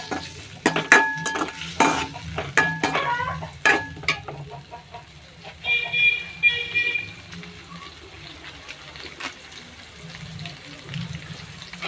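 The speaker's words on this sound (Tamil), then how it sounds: "நல்லா தக்காளி வதங்குறது நல்லா வதக்கி விட்டுக்கோங்க" Tomatoes and onions being sautéed in a pan for a brinjal curry, with a spoon stirring and scraping. Metallic clinks and soft sizzling come in bursts at first, then settle into a quieter stir.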